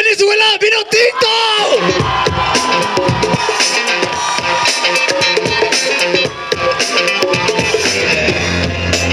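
A loud crowd cheers and yells at a semi-final chant battle, whoops and shouts rising over a dense roar that stays strong throughout.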